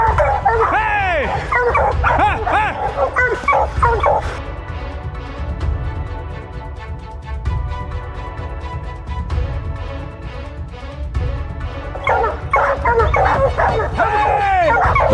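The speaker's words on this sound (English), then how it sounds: "The tracking dogs pick up the scent, their barking erupting and shattering the silence." Tracking dogs bark and yip in loud, overlapping bursts while on a bear's scent near a farm, with the barking thinning out mid-clip before surging again, and voices heard at times.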